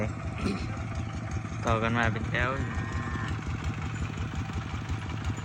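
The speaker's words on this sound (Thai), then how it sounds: "โอ้รถไถ" A farm tractor engine runs with a steady rhythmic chugging and clatter close by, while someone talks over it in the middle.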